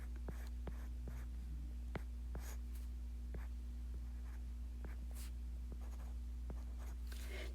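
Marker scratching across a surface in short, quiet strokes while working a long division problem, soft intermittent squeaks and taps over a steady low hum.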